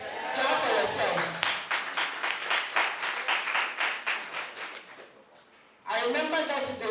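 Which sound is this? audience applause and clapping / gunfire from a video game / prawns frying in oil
audience applause and clapping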